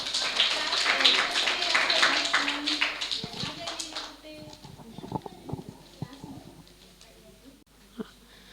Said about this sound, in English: Clap for class 1.